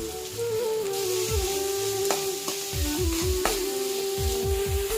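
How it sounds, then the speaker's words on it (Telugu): Chopped onions and green chillies with a pinch of salt sizzle steadily in a pan, a continuous close frying hiss broken by repeated scraping stir strokes and a few sharp clinks of the spatula against the metal. "ఇలా బాగా వేయించుకోవాలి."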